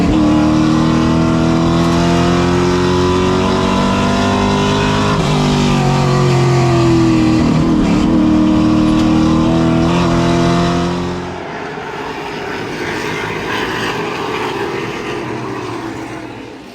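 Race cars roar around Hickory Speedway during the Jack Ingram Memorial, engines droning loud and close with shifting pitch as cars pass, then the pack fades into a quieter distant rumble.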